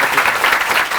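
An audience at a spiritual lecture claps in dense, steady applause for a brief moment.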